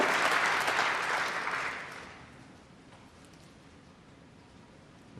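An arena crowd at the Snooker Welsh Open 2017 applauds Jimmy White's break: a dense burst of clapping that fades steadily over about two seconds into quiet room tone.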